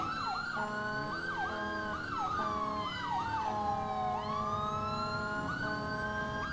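Loud nearby emergency siren in the video game GTA 4, fast yelping pulses that slide into a long descending then rising wail, steady throughout with road rumble beneath.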